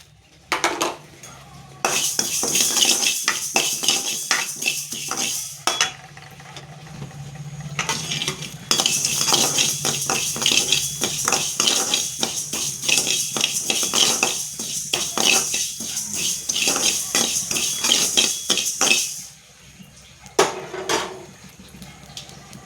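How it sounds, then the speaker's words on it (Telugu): Mustard and fenugreek seeds dry-roast in a pan, stirred with a metal spoon that scrapes and clatters in long continuous runs, broken by a few short pauses, with no talking. "బాండలు పెట్టుకొని ఆవాలు మెంతులు వేసుకుంటున్నాను"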